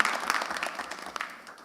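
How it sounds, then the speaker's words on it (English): A quick burst of audience applause at a church music fest grand finale quiz, dense clapping that fades slightly over under two seconds. "big round of applause for them"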